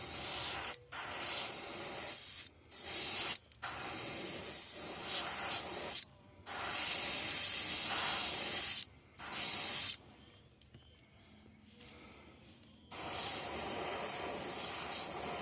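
Airbrush spraying paint onto a fishing lure in several bursts, a steady broadband hiss that starts and stops repeatedly, with a longer quieter pause near the end before spraying resumes.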